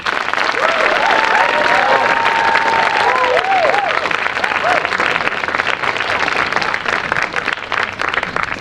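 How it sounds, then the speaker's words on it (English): A large commencement audience applauds parents and families in sustained, dense clapping that fills the hall. Voices and cheers rise over it at moments. "take a moment to applaud their parents and their families"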